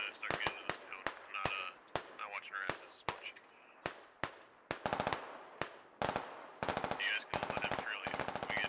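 A DShK heavy machine gun fires in the video game Squad, crisp short bursts and single cracks spread across the stretch, with a longer rapid burst near the end.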